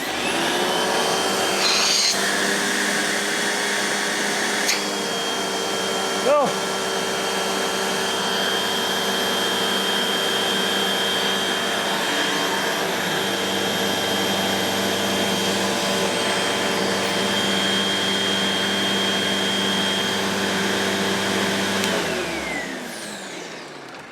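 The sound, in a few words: upright vacuum cleaner running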